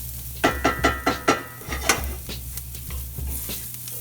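Chopped onions frying in a cast iron pan, a steady sizzle under a quick series of scraping stirs with a metal utensil, close and fairly loud.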